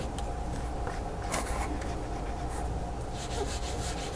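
A medium-sized sponge rubs limeade PanPastel colour across an inked card, giving a soft, steady, close-up dry scrubbing that runs throughout with slight swells in strokes.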